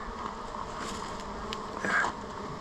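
A honeybee swarm drones steadily outdoors, a dense, continuous buzz of many bees close by, swelling briefly louder near the end.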